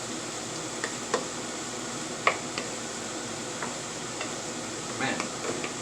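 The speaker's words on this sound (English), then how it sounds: "I'm going to give it a stirring, mixing." Seasoned ground beef picadillo being stirred in a pan over a steady sizzle, with scattered spoon clinks and scrapes against the pan, close and moderately loud.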